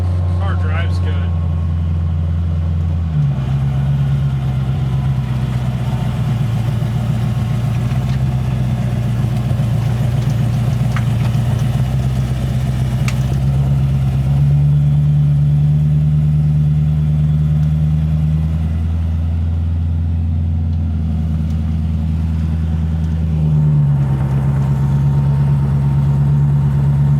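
A 1940 Ford car engine running while driving, a loud steady low rumble that surges in pitch with accelerations around the third and twenty-fourth seconds, with a person talking over it.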